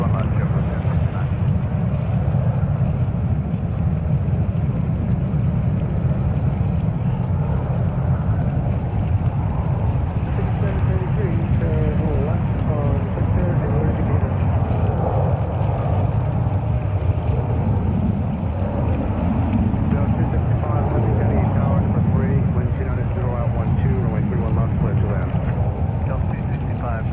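A jet aircraft at JFK airport, near the start of its takeoff roll on runway 31 left, rumbles steadily and loudly throughout, with a deep, continuous roar under radio voices talking.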